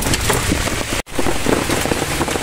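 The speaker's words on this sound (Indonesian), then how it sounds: "Cuaca hujan." Steady rain hisses down close by, a dense continuous patter during a fishing outing by a bridge, with a brief cut partway through and no talking.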